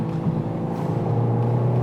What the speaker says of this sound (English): Although you do get quad exhaust system, meaning 2 pipes on each side